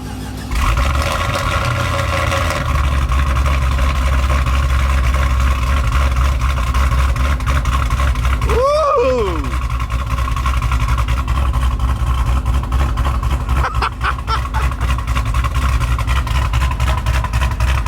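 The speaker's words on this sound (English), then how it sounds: "So let's cold start the V and we'll see what it's like." A V-engine street car cold-starts and settles into a steady, loud idle with a deep, low rumble and a slightly choppy cam lope, heard close up with no talking.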